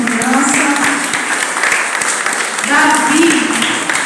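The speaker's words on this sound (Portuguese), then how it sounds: "Vamos bater palmas para a nossa criança." Audience at a children's Bible lesson clapping for a child entering to play a shepherd boy, a continuous, fairly loud patter of hands with voices and a cheer mixed in over it.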